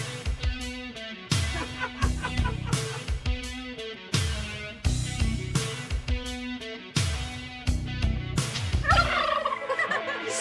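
A turkey gobbling set into a comic song parody, with repeated loud, rhythmic gobble-like bursts that track the music's beat and sound edited or performed rather than a bird heard outdoors.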